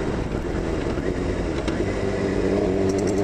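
A yellow 2001 Suzuki GSX-R 600 sport motorcycle engine idles and hums steadily and close by, a continuous broadband drone with a slight rise in pitch toward the end.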